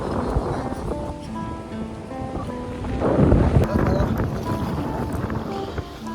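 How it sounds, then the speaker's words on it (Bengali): Strong wind blows across Cox's Bazar beach, a constant loud roar and buffeting that rises to a heavier gust midway, with surf and faint voices mixed in. "প্রচণ্ড পরিমাণে বাতাস"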